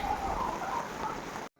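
Heavy rain comes down on an open market as a steady, soft broadband hiss lasting just over a second and then cutting off abruptly.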